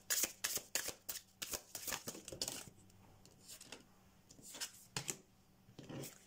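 Tarot cards shuffled and drawn close up, giving a flurry of quick riffling slaps and flicks, then softer sliding and a few sharp taps in the quiet as a card is pulled.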